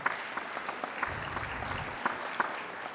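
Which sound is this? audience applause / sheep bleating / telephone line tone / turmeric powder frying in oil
audience applause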